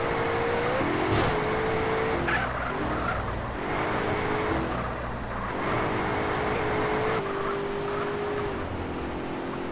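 A car with nitro boost drives in the video game GTA San Andreas, its engine droning steadily with rising whines and repeated tire squeals, loud and continuous.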